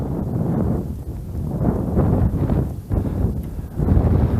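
Steady winter wind blows by a pond, a low rumbling buffeting against the microphone in gusts that rise and ease without pause.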